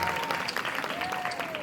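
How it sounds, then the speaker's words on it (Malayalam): College students applauding in an auditorium, a broad wash of many hands clapping steadily at a moderate distance, with a faint sustained tone running underneath. "ഒരു കൈയടിത്താ"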